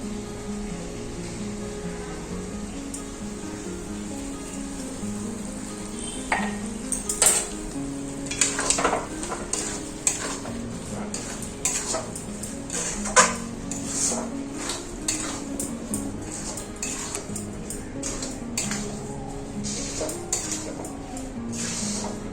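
Spatula scraping and clanking steadily against a pan while stirring a thick coconut and jaggery mixture, repeated metallic knocks and scrapes over a constant low cooking hum, close and moderately loud, no voices.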